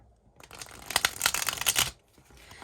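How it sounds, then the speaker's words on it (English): A deck of tarot cards gets a quick shuffle, a close burst of rapid papery riffling and flicking lasting about a second and a half, bracketed by quiet. "I'm just going to give them a quick shuffle"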